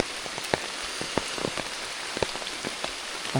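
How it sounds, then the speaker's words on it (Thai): Rain falling in a forest in Kep National Park, Cambodia: a steady hiss of rainfall with scattered louder drops tapping nearby at irregular intervals. "แต่ว่าประเด็นมันคือฝนตกเนาะทุกคน"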